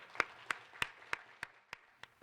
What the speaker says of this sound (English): if we can give a round of applause to everyone who's been involved